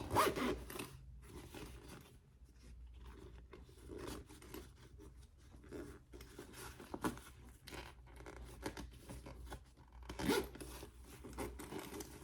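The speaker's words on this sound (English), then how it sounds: "let's zip it closed and see what we got." A zipper runs along an on-the-go pouch to close it, several quick close rasping pulls with short pauses between, near and clear with no talk.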